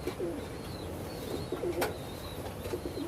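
Red Johnson, a racing pigeon, coos in low repeated murmurs close by, with faint rustling movement and one sharp tap midway.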